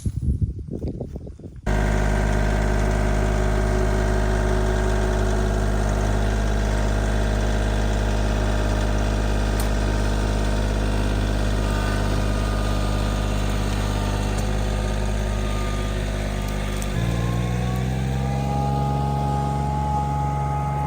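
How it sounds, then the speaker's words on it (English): A John Deere 3203 compact tractor engine runs at a steady, loud diesel idle while chained to a tulip poplar log, a continuous rumble that drops slightly in pitch near the end after a brief clatter at the start. "Get her tugged out of here by the John Deere 3203."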